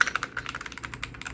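Rapid typing on a Royal Kludge S98 mechanical keyboard fitted with lubed Aqua switches and foam, giving a close, steady run of crisp clacking keystrokes with no talking.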